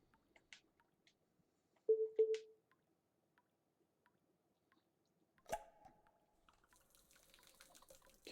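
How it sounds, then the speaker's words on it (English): Oil poured down in the Simulacrum video game: a couple of soft, close drips, then a sharper splash followed by a thin trickling, liquid wash. Quiet overall, with no talking. "So it looks like we can pour the oil down here."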